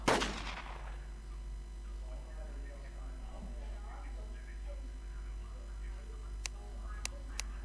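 Gunfire from the video game WarZ opens with a loud burst at the start, followed by quieter game ambience and a few faint clicking ticks near the end.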